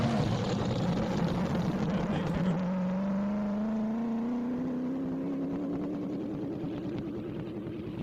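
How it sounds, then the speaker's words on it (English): A 1927 Ford Model T land speed racer with an LS engine, running rough as if missing a cylinder, drones loudly off a push truck at a dry-lakes speed trial, its pitch climbing steadily as it accelerates away. "Engine does not sound good off the push truck."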